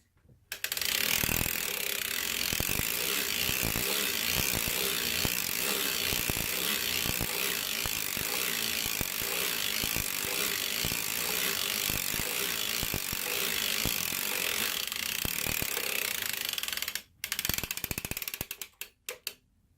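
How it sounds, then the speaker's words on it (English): Hand crank turning a circular sock knitting machine through 32 rounds, a loud continuous ratcheting clatter of needles and gears close up, running steadily for most of the stretch before stopping near the end. "I'm gonna put my carriage in 0, and then I'm gonna crank 32 rounds"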